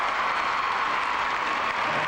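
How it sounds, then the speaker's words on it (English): Steady arena applause from the crowd at the 1996 U.S. Olympic Gymnastics Trials for gymnast Shannon Miller, a dense, even wash of clapping with no talk over it. "More applause from Shannon Miller."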